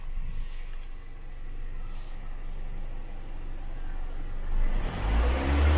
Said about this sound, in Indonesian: kita injak pedal gasnya ya